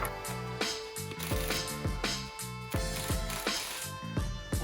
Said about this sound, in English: Snug up your bolts and you're done.